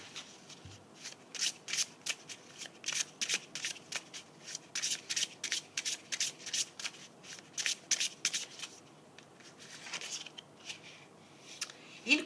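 Oracle cards are shuffled by hand in quick bursts, a crisp riffling flutter repeated in short rhythmic bursts with brief gaps, close and fairly quiet, with no talk over it.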